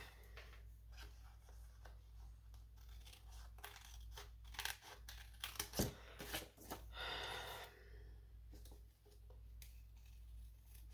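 Quiet snipping and crinkling of scissors cutting paper close by, a short burst of cuts in the middle against a low steady hum.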